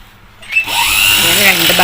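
Sewing machine stitching a blouse shoulder seam at the back neck, starting after a brief pause and then running as a continuous loud whirring motor hum, close by.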